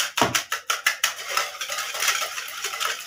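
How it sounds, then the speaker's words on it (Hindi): A utensil beats French toast egg mixture with sugar and milk in a bowl, giving quick, rhythmic clinks that settle into a softer, steady whisking swish. "इसको अच्छी तरह फेंट दे बस"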